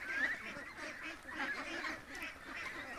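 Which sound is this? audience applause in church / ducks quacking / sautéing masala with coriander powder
ducks quacking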